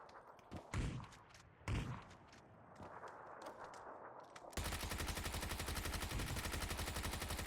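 Rapid automatic gunfire in the battle royale game PUBG breaks out halfway through, a loud, dense, sustained burst of shots that follows quieter scattered thumps and game ambience.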